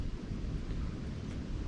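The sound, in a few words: wind in the woods during a deer hunt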